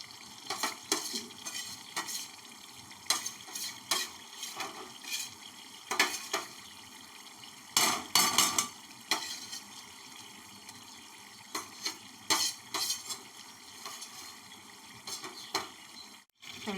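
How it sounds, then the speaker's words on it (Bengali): Cream gets stirred into a sizzling pan of masala for vegetarian chhena kofta, with repeated scraping and stirring strokes and soft frying hiss underneath. Utensil clinks come close and fairly quiet. "আমি এর মধ্যে এখন ক্রিমটা দিয়ে দেব।"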